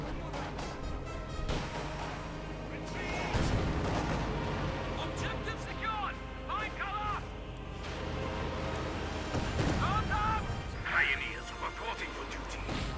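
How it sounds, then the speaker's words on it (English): Rockets fire at a base during a Company of Heroes 2 battle: whistling, swooping rocket sounds and scattered gunfire and explosions play under a commentator's continuous talk. "Rockets fire at the base there, doing some damage."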